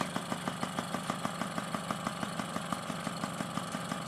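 A Yamaha QT50 moped's small two-stroke engine idles with the choke on, a fast even putter with regular pulsing beats, steady and close.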